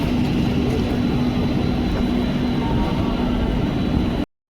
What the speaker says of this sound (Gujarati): કાલુ બાઇક ચલા રહા હે.